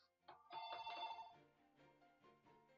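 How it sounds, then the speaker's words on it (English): A telephone rings during a Dragon Ball Xenoverse gaming session, a short faint electronic ring burst followed by quieter repeating tones in the background. "Sorry, the phone's ringing."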